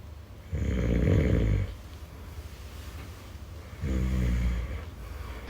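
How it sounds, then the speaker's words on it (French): A man snoring in a hotel room, two long rumbling snores a few seconds apart, close and fairly loud against quiet room tone. "Ce mec ne fait que de ronfler, c'est une pure folie."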